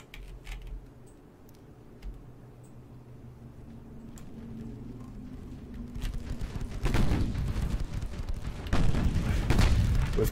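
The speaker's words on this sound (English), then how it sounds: "We've commenced firing everything, including stuff that should be technically out of range, at the battleship." Battleship guns firing shells in the naval game Ultimate Admiral Dreadnoughts, a US super battleship under fire. Low rumbling booms build and thicken in the second half into dense overlapping salvos.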